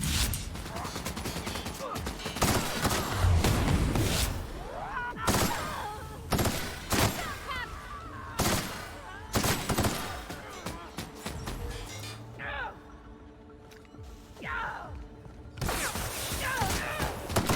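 Repeated gunfire in the sci-fi shooter The Outer Worlds: Peril on Gorgon, with sharp, loud shots and rapid bursts spaced irregularly through a firefight between robots and alien creatures, plus a few mechanical clicks between volleys and some voices.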